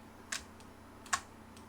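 Two crisp key presses on a computer keyboard, spaced under a second apart, while entering AutoCAD 3D modelling commands. Each is quiet and clear against a faint background hum.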